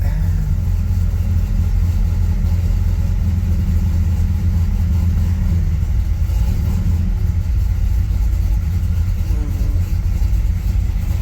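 A 1965 Chevrolet Impala SS engine running unsettled before it will idle, a loud, steady low rumble that continues throughout without pause, close by.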